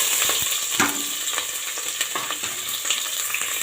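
Onion and green chillies sizzle in a pan for mushroom biryani, a steady frying hiss broken by the scrape and clatter of stirring, close and without speech.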